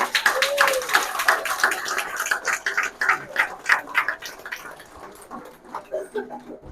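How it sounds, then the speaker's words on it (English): A group of people claps in a round of applause, close by, with uneven bursts that gradually thin out. "it's just a big round of applause"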